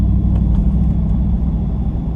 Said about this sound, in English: It's such a nice deep tone note, I guess, in exhaust terms